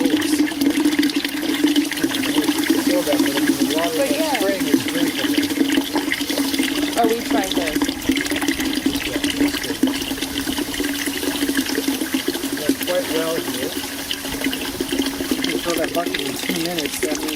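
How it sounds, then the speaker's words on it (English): Clean spring water at Sierra Baja EcoVillage rushes steadily out of a sprinkler pipe in a continuous near splashing flow, while people talk over it throughout. "It looks really clean coming out of the sprinkler."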